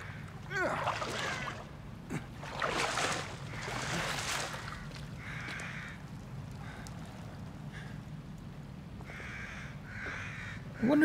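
Crows caw repeatedly in a bleak outdoor area of the survival-horror game The Evil Within, the harsh calls rising and falling in bursts over a low steady ambient rumble, with a sharp clatter at the very end.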